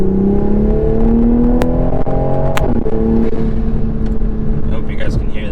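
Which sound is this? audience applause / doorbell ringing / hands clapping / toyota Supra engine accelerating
toyota Supra engine accelerating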